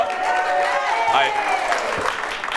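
Studio audience applause on a daytime talk show rises steadily and fills the room for a couple of seconds, with a host's voice talking over it.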